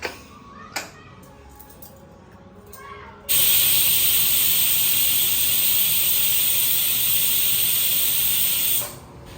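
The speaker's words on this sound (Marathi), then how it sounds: "आता आपण लावूया कुकर ज्याच्यात आपल्याला घ्यायच्या तीन शिट्या" A pressure cooker cooking misal lets out a loud, steady whistle hiss of escaping steam for several seconds after a few quiet clicks and clatters, then stops abruptly.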